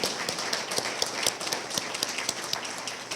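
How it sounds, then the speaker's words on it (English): Applause from an audience at a Purdue alumni medical network launch event, dense steady clapping with scattered sharper claps throughout, continuous and fairly even in level. "that's worth clapping for"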